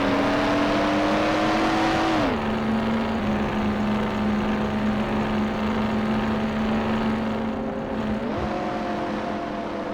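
A car engine in the video game Mafia 1 hums and revs steadily during a race, pitch rising and dropping with gear changes, a smooth synthetic drone with no voices.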